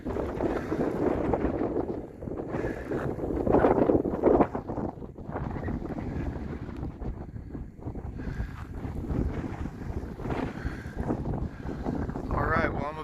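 Strong, gusty wind buffets the microphone on a cold, cloudy hike on the Grand Enchantment Trail between Superior and Mammoth, roaring steadily for the whole stretch with rising and falling gusts.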